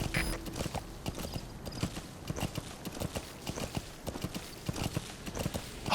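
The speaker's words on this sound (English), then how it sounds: "I'm just a random horse randomly rocking over to your base." A horse in Metal Gear Solid 5: The Phantom Pain trots with steady, rhythmic clip-clopping hooves, close and clear throughout, with no talking over it.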